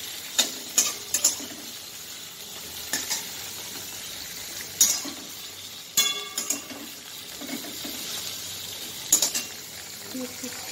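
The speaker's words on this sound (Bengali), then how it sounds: "তো ভালো করে ভেজে নেব।" Pointed gourd (potol) frying in a pan, with a soft steady sizzle broken by repeated sharp clinks and scrapes of a spatula stirring against the metal, close and fairly loud.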